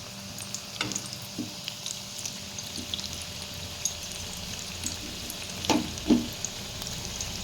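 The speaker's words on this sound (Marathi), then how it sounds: "तेल आपलं व्यवस्थित तापलं आहे आता आपण याच्या कळमध्ये एक एक करून भजे सोडून घेऊया" Spinach bhaji fritters frying in hot oil give a steady close sizzle and crackle, with a few sharper pops and splashes as batter drops in, and no talking.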